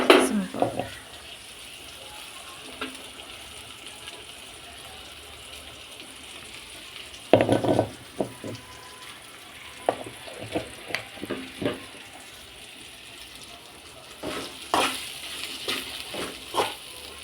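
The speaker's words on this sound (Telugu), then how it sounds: "ఇలా బాగా ఫ్రై అయిన తర్వాత పొడి వేసేసుకోవాలన్నమాట" Bitter gourd fries in a pan at home, with soft intermittent sizzling and occasional stirring scrapes; brief bursts near the start, around the middle and toward the end, and a faint background voice now and then.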